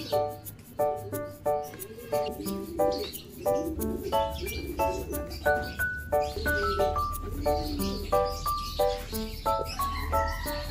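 Pigeons arriving at a loft fill the air with repeated chirping and cooing calls in a quick rhythm over a low steady rumble, close and continuous throughout.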